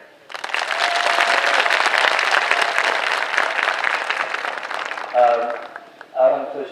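An audience at a gathering in Sankysa Village, India, claps loudly for about five seconds. The applause is dense and sustained, then fades out as a voice begins speaking near the end.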